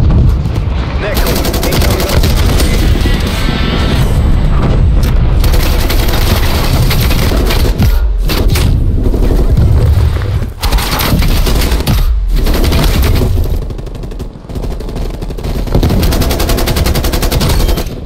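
Artillery strike explosions and heavy gunfire in Call of Duty Black Ops Cold War Hardpoint mode, dense loud bursts of automatic fire and booming blasts that continue almost nonstop, with brief game voice announcements mixed in.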